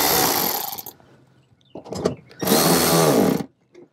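A power tool drives a screw through a Passat bumper cover into the fender, with an opening whir, a short burst, then a longer steady whine of about a second, close and loud with pauses between.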